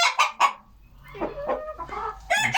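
Chickens cluck in a backyard coop housing young Silver Laced Bantam Wyandottes and other bantams, several close, loud bursts of clucking and calls spread across the moment with brief quiet gaps.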